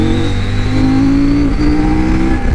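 A CF Moto 800 MT Touring motorcycle engine revs up close and loud, a steady droning tone that climbs briefly and then dips as the gear change fails.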